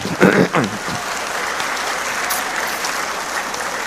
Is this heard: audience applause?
yes